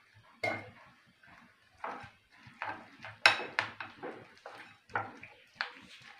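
Batter for night-jasmine flower fritters, sprinkled with baking soda, is worked together by hand in a bowl, giving a string of close scraping and soft clattering strokes in an uneven rhythm with no talking.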